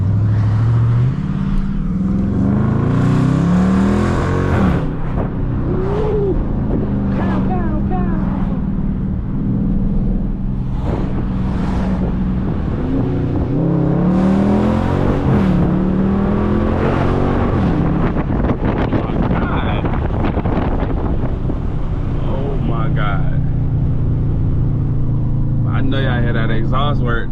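Dodge Charger R/T V8 exhaust under hard acceleration from inside the car, repeated rising engine pulls with revs climbing and dropping between gear changes, loud and close over wind noise, with someone talking at times.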